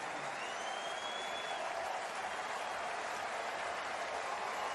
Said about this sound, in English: everybody in the crowd giving Teoscar a hand